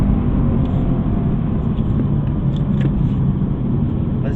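A 510 hp Mercedes-AMG GT S being driven on a race track, its engine a loud, continuous drone with a heavy low rumble that stays fairly constant for the whole stretch, with no voices over it.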